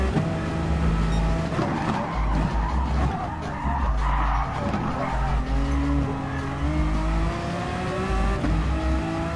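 Race car in the GT Sport video game driven on worn tyres, with continuous loud tyre squeal and skidding over a revving engine throughout.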